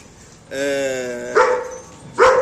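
A stud dog gives a drawn-out whine, then two short, sharp barks close to the microphone, with nothing else around them.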